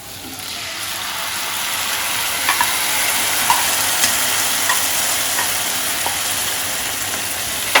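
Tomato puree hitting a pan of frying onions, a loud rising sizzle that settles into a steady hiss, with a few spoon clinks and stirring scrapes.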